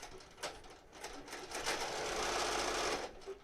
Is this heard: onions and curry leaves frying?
no